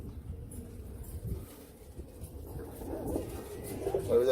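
Pure-breeder Royal Teddy pigeons cooing near at hand, soft low burbling calls that build toward the end over faint background noise.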